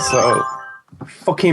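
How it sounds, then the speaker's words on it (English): A mobile phone rings with a steady electronic tone over a man's speech, then the ringing stops and the talk continues after a short pause. "That was my phone not being on silent."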